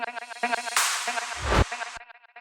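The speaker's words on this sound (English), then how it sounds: "there's this reverse cymbal here that goes into a nice big airy clap right before the drop" A swelling reverse cymbal whooshes up over a rhythmic synth line and snaps into a big, airy clap right before the drop, after which the music continues.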